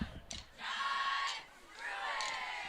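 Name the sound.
cheer team and crowd cheering at a homecoming football game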